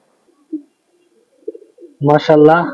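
Soft, faint racing pigeon coos in a quiet space, followed by a louder voice starting to speak nearby.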